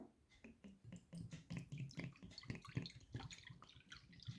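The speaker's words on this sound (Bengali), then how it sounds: "জল পড়ার আওয়াজটি শুনবেন, হিলিং পাওয়ার দেয়।" Water drips steadily in a quiet indoor setting, a soft irregular series of close plinks and splashes with no one speaking.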